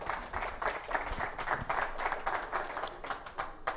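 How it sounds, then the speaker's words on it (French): Applause from an audience at a French-language spiritual talk, a steady patter of many hands clapping at moderate level, continuing throughout without speech over it. "On peut applaudir pour vous-même"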